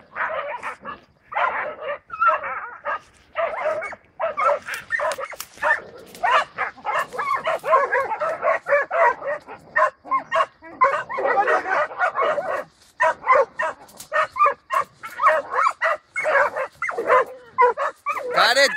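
Several dogs bark and yip almost continuously nearby, in loud, uneven bursts with whimpering between them, while people's voices mix in.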